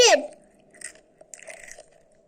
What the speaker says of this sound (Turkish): Kıtırda biraz sesin geliyor.